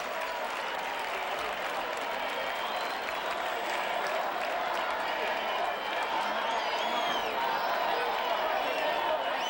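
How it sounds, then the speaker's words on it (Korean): An arena crowd of fans roars and applauds for a victorious bullfighter, a steady wash of cheering and clapping that holds at a fairly even level from start to finish. "죽음의 고비를 넘고 승리자가 된 스타 훌리에게 팬들의 환호가 쏟아졌다."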